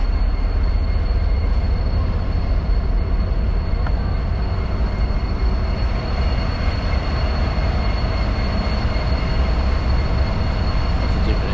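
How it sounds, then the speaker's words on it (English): A train rolls past in Calgary, a continuous loud rumble of railcars and wheels on track with a steady high whine, heard outdoors without a break. "Get the trains going through there."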